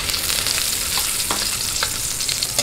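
Garlic frying in a pan for lumpiang hubad: a loud, continuous close sizzle with small crackling spurts and no talking.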